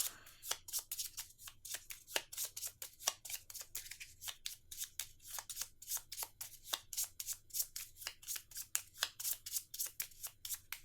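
A deck of Magic: The Gathering cards is shuffled by hand, with rapid, crisp riffling bursts repeating steadily and close up over a quiet room, with no one talking.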